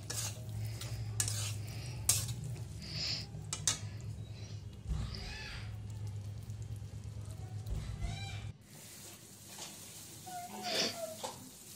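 Chicken feet curry with coriander leaves and garam masala being stir-fried in a pan, repeated scraping stir strokes and utensil clinks over a low sizzle, with a quieter tail toward the end.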